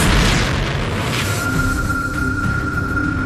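A giant supernova explosion rendered as a loud deep boom, its low rumble sustained and slowly fading beneath a faint steady tone across a few seconds.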